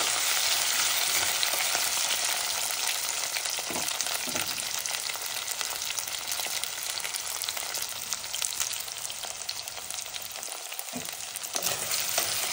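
Potatoes frying in oil for a curry, a dense, continuous sizzle close by with occasional scraping stirs, steady and loud from start to end with no talking.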